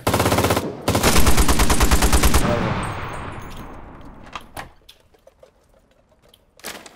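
Browning machine gun in the shooter game Cuisine Royale fires a loud, fast rattling burst of rounds, then the shots trail off into a decaying echo with a few scattered sharp reports afterward.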